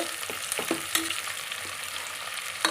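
Food fries in a pan while chicken biryani cooks, a soft steady sizzle with occasional light clinks and stirring sounds, fairly faint and without talk.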